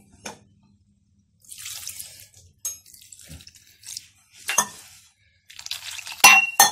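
Rava onion dosa batter mixed with coriander leaves and cumin is stirred in scattered bursts, wet swishing and sloshing strokes separated by quiet pauses, with a couple of sharp clinks near the end.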